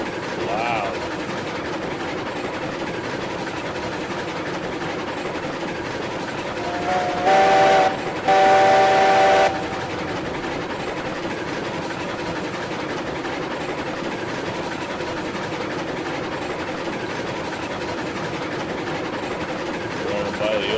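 A steam locomotive in the RailRoads Online game rolls along with a steady running rumble, its whistle sounding in two loud blasts near the middle, one short and one longer.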